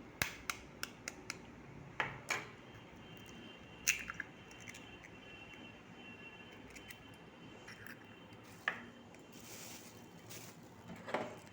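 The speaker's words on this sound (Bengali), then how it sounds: "এখন আমি এর মধ্যে একটা ডিম ফাটিয়ে নিচ্ছি।" An egg is cracked over marinated bhetki fish fillets in a home kitchen, giving a few sharp, close taps and crunchy cracks scattered over a quiet background with soft handling noises.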